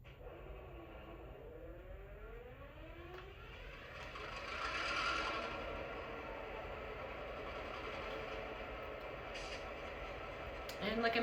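Athearn model DT&I six-axle diesel locomotive with sound decoder, a steady engine drone that swells and settles, with brief horn-like tones near the start and end, close and fairly quiet.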